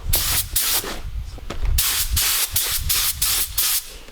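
A paint spray gun fed at full compressor pressure, about 200 PSI, during vehicle fabrication work. It gives loud, broadband hissing bursts in repeated trigger pulls of roughly half a second each, separated by brief gaps.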